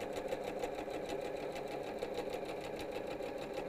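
Sewing machine stitching a quilt panel, a steady fast mechanical whir and rapid needle clatter running evenly throughout, close and fairly quiet with no voices.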